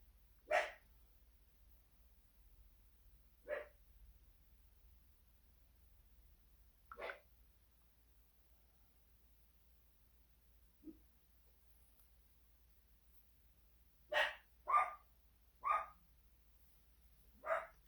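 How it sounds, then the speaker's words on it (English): A small house dog barks in scattered bursts, single yaps spread apart and then a quick cluster of four or five near the end, close by over a quiet room. "he knows that I'm on live, so he will start barking"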